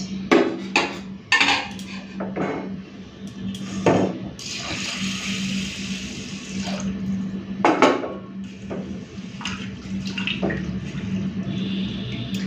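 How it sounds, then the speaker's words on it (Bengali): Water is poured onto washed rice in a cooking pot while making chicken biryani: a short, close splashing rush amid clinks and knocks of the metal pot, with no talk. "চলুন এরপরে জলটা দিয়ে দিই।"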